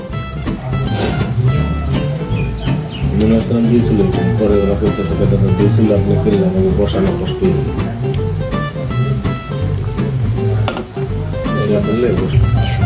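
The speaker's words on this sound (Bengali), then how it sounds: "ঝোলটা ফুটে গেছে। এখন আমি ভেজে রাখা মাছগুলো দিয়ে দেবো।" Fried fish pieces go into a boiling fish broth in a pan, giving a loud, continuous bubbling sizzle with some stirring, steady and close for the whole stretch.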